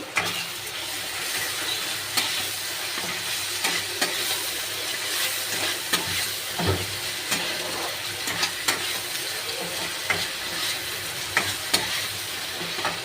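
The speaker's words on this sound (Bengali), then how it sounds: "এবার আমি আদা রসুন আর হালকা একটু পেঁয়াজও বাটা আছে সেটা দিয়ে দেব, দিয়ে হালকা একটু নেড়ে নেব।" Ginger, garlic and onion paste fries with softened tomato in a pan, giving a constant close sizzle with frequent scraping clicks as it is stirred, no speech.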